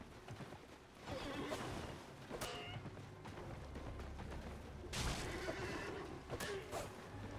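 A horse neighs in the video game Elden Ring, with loud whinnies among hoof clops and sharp combat impacts, no talk over it.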